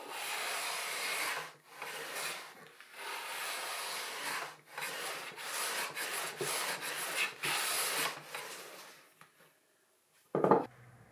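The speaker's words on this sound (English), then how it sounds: "I'm jointing this with my shooting board, which is great for thinner pieces" Hand plane jointing the edge of thin figured sycamore on a shooting board, rhythmic rasping strokes repeated about every second, close and moderate, followed by a short pause and a sharp knock at the end.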